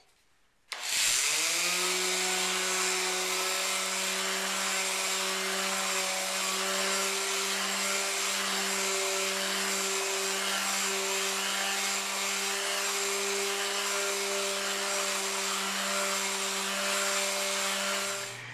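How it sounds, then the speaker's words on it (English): Random orbital sander fitted with 80 grit paper sanding a carved wooden guitar neck, a steady loud motor whine with a continuous abrasive hiss, starting abruptly and running alone without pause. "I'm going to use my random orbital sander with some 80 grit paper on it"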